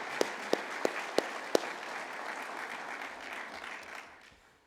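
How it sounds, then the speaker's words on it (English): Applause at a fire academy graduation for a class of new firefighter recruits, a steady crowd clapping that fades out toward the end, with a few sharp louder claps near the start. "Let's give them a round of applause for being who they are"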